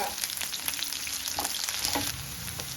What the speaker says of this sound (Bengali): এবার পেঁয়াজটা নেড়ে আমি একটু ভেজে নেব।